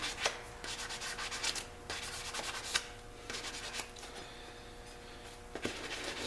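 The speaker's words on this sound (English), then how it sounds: "Get that sanded a little bit." A painted Jeep Wrangler roll cage gets hand-sanded before painting, with close, rhythmic back-and-forth scraping strokes broken by short pauses and a few sharper scuffs, and no voices.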